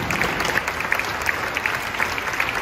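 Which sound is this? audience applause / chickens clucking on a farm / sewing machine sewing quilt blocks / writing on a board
audience applause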